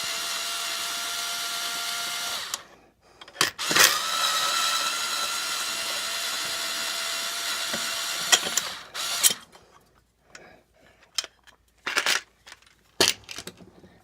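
A chainsaw's muffler screws are backed out with a Torx bit, a close whirring ratchet-like drive that runs for a couple of seconds and then breaks into short bursts of mechanical clicks and scrapes, with no talk.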